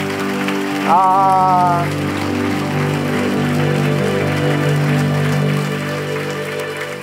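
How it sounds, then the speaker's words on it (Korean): A congregation at a church healing service breaks into sustained, even applause that holds for several seconds over soft sustained keyboard tones, with a brief spoken phrase at the start. "우리 하나님께 감사의 영광의 박수 올려드리기를"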